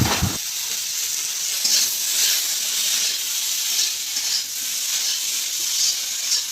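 Okra tipped into a hot pan (kadai) with fried onion and chilli hisses into a loud, steady sizzle that carries on unbroken, close and alone after a brief clatter at the start.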